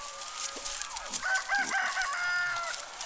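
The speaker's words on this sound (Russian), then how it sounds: "Ой, петушок кричит." A rooster crows loudly in a long drawn-out call, with birds clucking and chirping around it and faint outdoor background noise.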